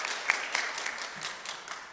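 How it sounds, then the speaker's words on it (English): Faint, thin applause from a seated audience at a corporate panel session, with scattered individual claps sounding distant and brief. "Let's give her a big round of applause."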